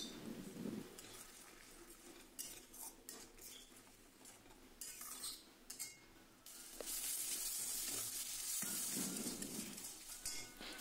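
Cumin, turmeric and chili powder paste with a little water being sautéed in a pan, soft sizzling broken by spoon clinks and scrapes against the metal, then a louder, steadier hiss in the last few seconds.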